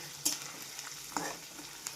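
Green chillies frying in a pan over a low flame for sabudana khichdi, with a steady soft sizzle and a few sharp crackles and pops scattered through it, close and without talk.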